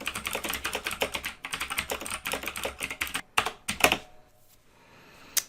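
Quick, dense keystrokes on a computer keyboard as a paragraph of ad copy is typed, a steady close clatter that pauses and ends with a few isolated taps, no voices.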